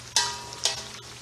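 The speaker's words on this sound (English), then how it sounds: "So while this is frying" Blended red, green and yellow onions with fresh tomatoes frying in a pan, giving two bursts of sizzling and stirring over a steady low fry, close and fairly loud with no talk.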